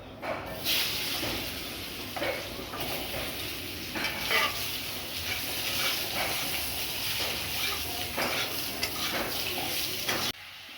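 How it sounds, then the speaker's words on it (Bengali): Potatoes sizzle and crackle in hot oil left from frying small fish, with steady frying hiss and repeated stirring scrapes throughout, fairly close and with no talking. "আলুটা ভাজা ভাজা করে নিচ্ছি"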